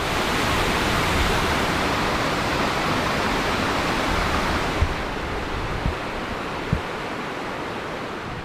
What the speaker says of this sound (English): It's also called the Rybachy waterfall.